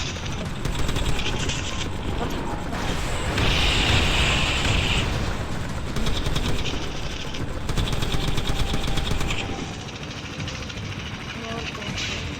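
Rapid gunfire and explosive booms from the zombie shooter video game Left to Survive, dense and continuous throughout with bursts of automatic fire, with a voice talking over the action.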